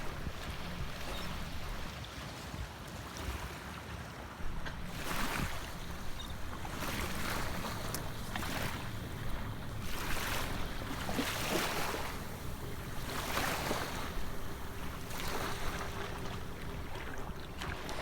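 Waves wash onto the shore at South Fort Myers Beach, Florida, with watercraft passing offshore. Steady broadband rushing builds in gentle surges throughout, with no voices.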